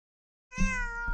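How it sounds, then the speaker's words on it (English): A pet cat gives a single clear, drawn-out meow with a slight rise and fall, close and fairly soft after a moment of silence, no other sounds around it. "Have a beautiful cat. Hello, baby. Hello. Meow. Do a little meow."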